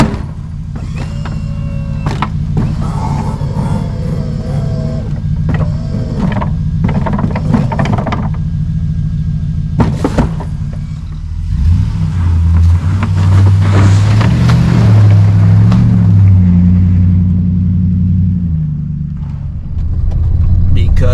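A snow plow vehicle drives down a road by a cabin in the woods, its engine a loud, steady rumble that grows heavier partway through, with wind noise and a voice talking over it.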